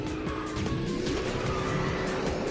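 Karts drift with sustained tire skidding and engine roar in the KartRider Rush+ mobile racing game, a loud continuous screech running through the whole stretch.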